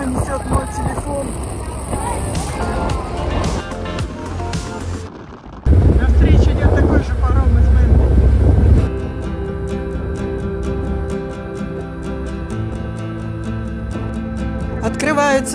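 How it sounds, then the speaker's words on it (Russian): Strong wind buffets the microphone on the open deck of the Manly ferry in Sydney Harbour, a loud steady rush mixed with the boat's engine drone, while a person talks over it. "Очень сильный ветер."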